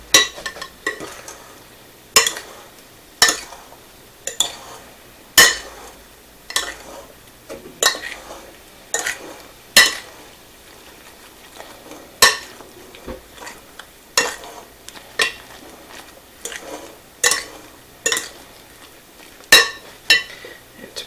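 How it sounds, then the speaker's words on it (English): French toast batter mixed in a small bowl: repeated sharp clinks of a utensil against the bowl in an uneven rhythm over a soft scraping whisk, close up with no talking. "now we're just going to dump it into here and mix it well"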